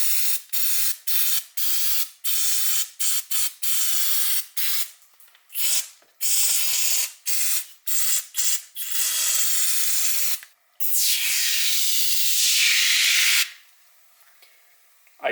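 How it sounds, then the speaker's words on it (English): Super Clean foaming degreaser sprayed from close range onto an old, greasy chain: a quick run of sharp, repeated trigger-spray bursts, then a few longer continuous sprays. "I do like the foaming action, although I wish the spray nozzle was a little bit more narrow."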